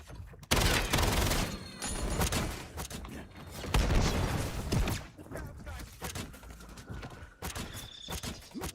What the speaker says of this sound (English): Machine gunner. Suppressing fire.